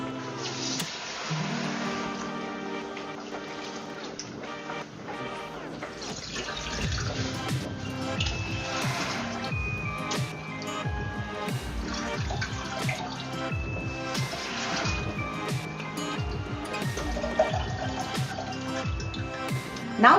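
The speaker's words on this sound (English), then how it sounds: "Wash the rice 3 times and drain." Rice being washed in water three times and drained for a Filipino binignit dessert, with steady running and splashing water throughout, close and continuous, plus scattered clinks and drips; no talking.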